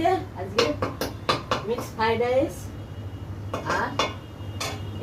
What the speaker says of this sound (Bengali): কড়াই রাইস চিকেন দিয়ে বানাচ্ছে